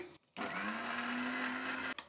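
After a short pause, an electric mixer grinder whirs loud and steady, blending tamarind and chili with a little water into a fine paste, its motor hum holding an even pitch before cutting off sharply.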